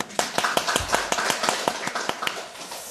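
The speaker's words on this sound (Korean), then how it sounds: "이럴 때는 우리가 하나님한테 박수 한번 쳐드려야 되는 거 아니겠습니까?" A church congregation clapping together at a preacher's prompting during a sermon, with a dozen or so loud, fairly even claps in a steady rhythm, close and distinct.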